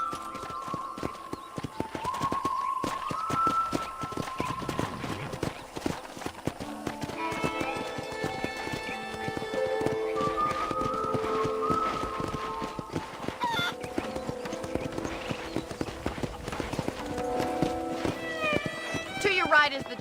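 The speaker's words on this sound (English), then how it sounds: "let's see if you can still ride a horse." Horse hooves clopping in a steady rhythm during a ride on a ranch in Red Dead Redemption, with farm animal calls and a voice talking over the top.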